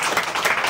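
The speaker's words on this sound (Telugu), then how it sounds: "చప్పట్లు కొట్టి స్తోత్రం చెప్పండి." A church congregation clapping hands in praise during a Sunday worship service, a brief wash of many hands applauding together at steady loudness.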